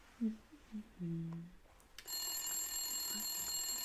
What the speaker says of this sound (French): Téléphone qui sonne.